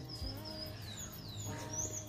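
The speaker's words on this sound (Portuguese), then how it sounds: "ouvindo esses passarinhos" Faint birds chirp and tweet intermittently in a quiet outdoor setting, with soft background noise.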